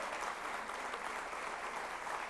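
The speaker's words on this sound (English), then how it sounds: "Please give him a very warm round of applause." A conference audience at the India Today Conclave 2024 gives warm, steady applause for a visiting prime minister, a dense even patter of many hands throughout, heard from a distance at moderate level.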